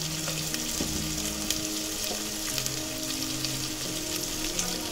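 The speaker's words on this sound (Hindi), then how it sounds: "अब इसमें डालेंगे अपनी गाजर, जो थोड़ा इस मौसम की टाइट होती है तो पहले इसलिए डाल ली हूँ। अच्छे से भूनेंगे इसको।" Carrots frying in oil in a pan for savory sevai upma, a continuous close sizzle with faint scraping underneath and no talking.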